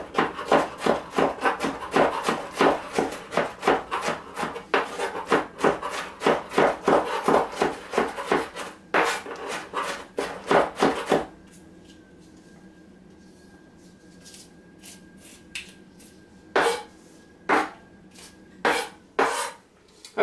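A knife finely dices onions on a cutting board in a rapid run of sharp, close chops for about eleven seconds, then stops, followed by a few scattered single knocks after a quiet pause.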